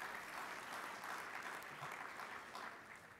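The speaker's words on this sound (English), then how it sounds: "Just give her a great round of applause." A meeting audience gives a round of applause, a steady wash of many hands clapping throughout, fairly distant and even, fading slightly at the end.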